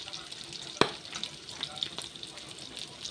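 Pork sautéing in a pan for adobo, a light crackling sizzle with one sharp knock of the utensil early on and quieter stirring after, fairly soft and close.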